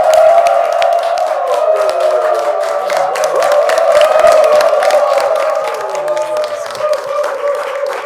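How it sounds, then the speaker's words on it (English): A studio audience at a Nigerian TV talk show applauds and cheers to welcome a guest, with continuous clapping and whoops, loud and close, sustained throughout. "Please, a round of applause for her."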